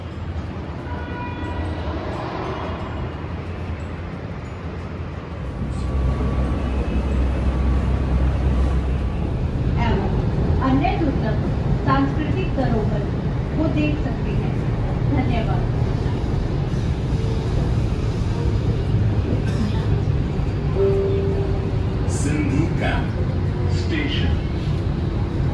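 A Jaipur metro train rolls along with a steady, loud rumble and rattle after a quieter opening, with faint clicks and a tone sounding partway through.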